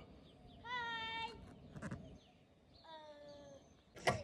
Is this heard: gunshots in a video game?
no